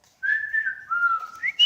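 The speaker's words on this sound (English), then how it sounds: "Whistle, whistle." A person whistles alone, a few clear sliding notes close by, rising and falling over under two seconds with a short high chirp at the end.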